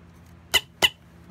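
Two short, sharp squeaks from a BLACKPINK official light stick running on AAA batteries, spaced about a quarter second apart and heard close up against a quiet room.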